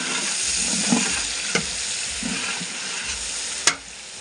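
Onions and bay leaf frying in a pan give a steady crackling sizzle, broken by a few sharp utensil knocks and scrapes as they are stirred.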